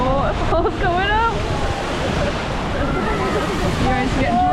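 A waterfall splashes over a water ride at the Efteling theme park, a continuous loud rush of water heard up close under excited shouting and screaming riders.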